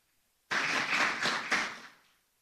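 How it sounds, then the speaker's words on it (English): Conference audience applause bursts in abruptly and fills the room as a dense, moderately loud patter of many hands, swelling briefly before tapering off within about two seconds, with no voices over it. "I think we should clap ourselves."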